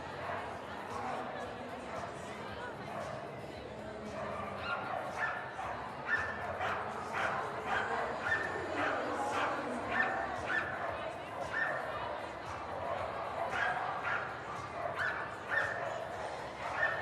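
Dogs including a Border Collie barking and yipping at an indoor flyball tournament at the Westminster Kennel Club Dog Show, repeated sharp barks and whimpers from several dogs mixed with a commentator talking over them.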